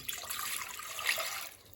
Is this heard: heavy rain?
no